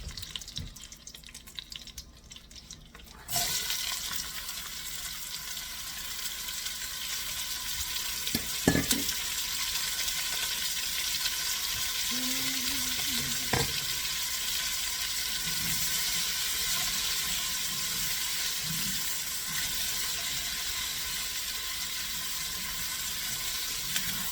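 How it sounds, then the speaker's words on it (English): Chopped onion and garlic sautéing in a pan for lamb with lemon and paprika, a steady broadband sizzle starting a few seconds in and running continuously, with a couple of brief knocks partway through. "sauteing means that we're actually cooking the vegetables somewhat, so the onion will be translucent"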